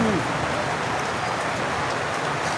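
Heavy rain pours steadily onto market stall tents at a tiangge in Angeles City, Pampanga, a dense continuous hiss with a voice briefly audible at the start.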